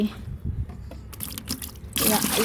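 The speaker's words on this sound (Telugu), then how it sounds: "మనము బకెట్లో తీసుకొని ఒక 4-5 జగ్గులు పోద్దాము" Banana-based liquid fertilizer pours and splashes from a jug into a bucket, a short gush at the end following quieter trickles and handling noises.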